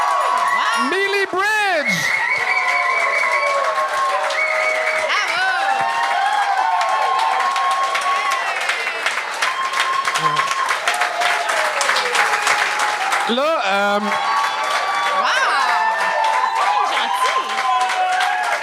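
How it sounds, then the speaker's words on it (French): A comedy show audience on a Quebec gong-show stage breaks into sustained applause and cheering, loud and dense throughout, with whoops, shouts and a host's voice calling out over the crowd. "est-ce que vous l'applaudissez parce qu'elle était bonne ou parce qu'elle a terminé avec fourrer un Québécois?"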